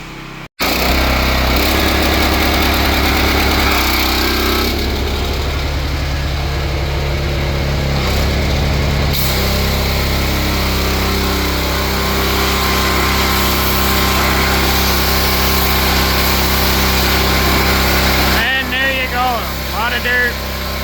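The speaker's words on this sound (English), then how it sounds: "So yeah, I'm gonna start power washing." Inside a dirty dairy barn, an engine-driven power washer drones loudly and steadily for the whole stretch, its motor note shifting slightly as the spray works.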